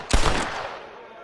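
Gunfire from the Red Dead Redemption video game as a hat is shot: a loud, close burst of a few rapid shots in the first half second, then a fading echo with an ambient rumble.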